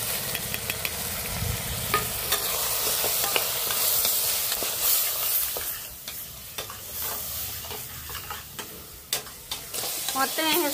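Tomato masala with chili powder, turmeric, garam masala and salt is stirred and fried in oil. A steady sizzle runs throughout, broken by repeated sharp scrapes and clicks of a spoon against the pan, loud and close.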